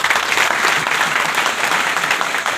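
An audience claps loudly for Hemant Sharma at a business seminar, a thick, continuous wash of applause that stays strong throughout with no speech over it.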